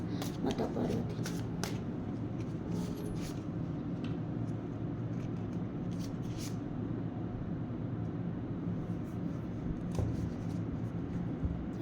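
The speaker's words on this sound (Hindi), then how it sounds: "मुझे 2 कार्ड दीजिए यूनिवर्स, माता पार्वती" A deck of tarot cards is shuffled repeatedly, a soft continuous riffling and sliding with occasional sharper flicks, close to the mic and fairly quiet, with no talking over it.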